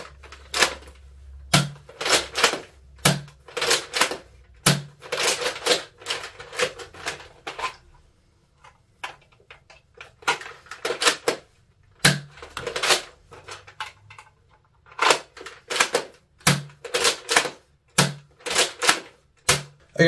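Nerf Fortnite HR bolt action rifle firing Econ waffle head darts: repeated sharp mechanical clacks of the bolt being cycled and the blaster firing, in quick clusters with brief pauses between, close and clear.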